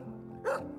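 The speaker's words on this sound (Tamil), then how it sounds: "அன்போட அந்த நாய் கொலைச்சுது" A dog gives a single short bark, moderately close, cutting briefly through a low, steady background hum.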